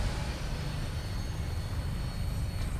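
An aircraft engine roars steadily and close at takeoff in the game Fallout 4, a dense, loud rumble that holds throughout with no voices.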